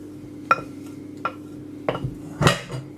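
A spoon scrapes and clinks against a pan while custard is stirred over low heat, with a few distinct taps and scrapes spaced across the stretch over a steady low background hum.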